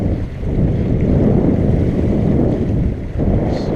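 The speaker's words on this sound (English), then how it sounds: "Right now the wind's coming right around the edge of the island there, the end of the island." Wind blows around the end of an island while sailing, a steady broad rushing roar with gusty swells and microphone buffeting, unbroken across the short stretch.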